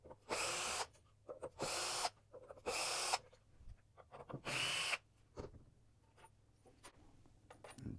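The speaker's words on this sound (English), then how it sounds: "use your screwdriver to disassemble the frame" A power driver backs screws out of a frame during disassembly, giving several loud whirring bursts of about a second each, separated by quieter handling clatter and clicks.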